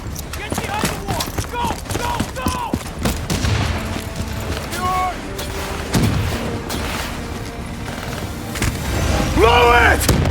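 Javelin missile strikes in Call of Duty Black Ops 3 land as a barrage of heavy booms and rattling gunfire that rolls on throughout, with shouting soldier voices breaking through the combat noise.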